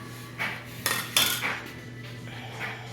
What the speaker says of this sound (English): for these nice 9x5 loaf pans I have ready. Okay, so let's separate them.